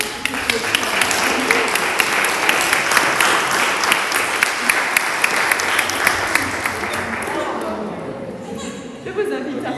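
A Protestant congregation applauds to welcome a newly baptized child during Sunday worship, loud, dense and sustained clapping with some chatter underneath, fading out near the end.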